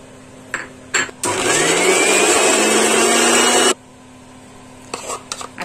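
A mixer grinder whirs at high speed for about two and a half seconds, grinding nacho dough paste with water, its motor pitch rising as it spins up, loud and close, framed by brief clicks and handling noises before and after.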